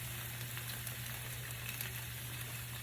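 Stuffed pork chops sizzle steadily on a smoking hot grill, a continuous close hiss and crackle with a low hum underneath and no talking.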